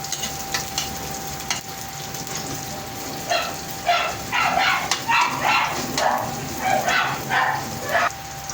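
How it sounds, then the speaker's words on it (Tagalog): A dog barks repeatedly in excited bursts, fairly close, over faint kitchen sizzling, with a steady high tone in the background. "Ang ingay ng aso."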